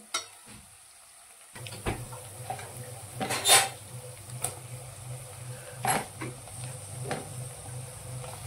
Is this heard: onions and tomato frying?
yes